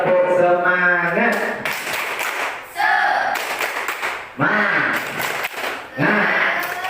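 A class group claps in short rhythmic spirit-clap bursts, several rounds separated by brief pauses, loud and close, mixed with voices chanting along.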